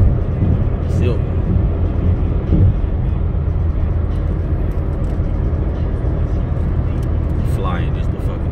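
A silver Dodge Charger fitted with an aftermarket muffler rumbles past, its steady loud engine roar filling the whole stretch with a few brief sharper bursts, while people talk nearby.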